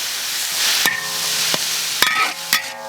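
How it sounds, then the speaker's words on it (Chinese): White pickled cabbage is stirred in a wok, with soft sizzling frying and several sharp metallic scrapes and clanks of the spatula against the pan. "再把一盆的酸菜啊下锅炒点水分"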